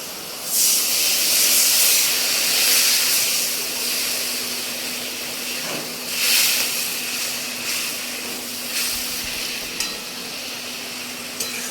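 Water poured into a hot pan of frying bata fish and potatoes sets off a loud, steady hiss and sizzle of steam, swelling in bursts and lasting throughout with no talking.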